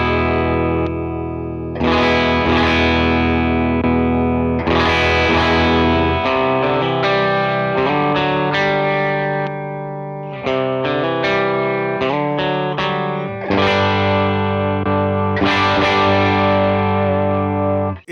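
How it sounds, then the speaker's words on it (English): An electric guitar plays sustained distorted chords and notes through an Empress Comp Mark II compressor pedal, loud and dense throughout, with brief gaps as the pedal is switched on and off. "So the compressor is currently on. I'm going to turn it on and off and show you how it sounds."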